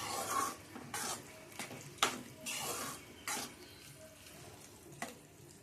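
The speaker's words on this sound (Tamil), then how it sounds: "அப்படியே கிண்டிக்கிட்டே இருங்க." Blood stir-fry (ratha poriyal) being stirred in a pan: quiet, repeated scraping strokes of a spatula against the pan over a soft, low sizzle, with no voices.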